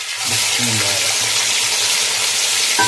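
Garlic and ginger fry in hot oil in a pan, a loud, dense, continuous sizzle close by, with a brief low voice murmuring beneath it early on.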